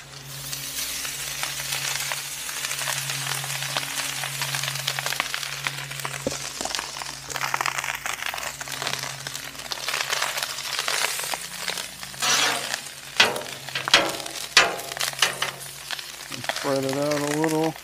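Chicken fried rice sizzles steadily on a Blackstone griddle hibachi-style, a dense frying hiss under a low hum, with metal spatula scrapes and clinks growing busier toward the end.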